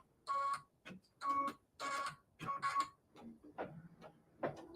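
An embroidery machine sews a blanket stitch on a split-hooped quilt wall hanging, giving bursts of rapid mechanical stitching chatter in short runs separated by brief pauses, close and moderately loud, with no talk.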